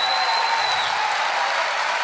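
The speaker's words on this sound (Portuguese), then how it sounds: "Aleluia, aplauda ao Senhor, vai, manifeste a tua adoração." Church congregation applauding during worship, a dense continuous wash of clapping lasting a couple of seconds with a faint high tone above it and no clear speech.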